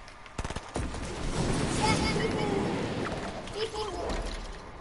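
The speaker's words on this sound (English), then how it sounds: "I think there's people shooting." Rapid bursts of video game gunfire crackle at a distance, spread across the clip as a dense mid-level wash with no clear single shots standing out.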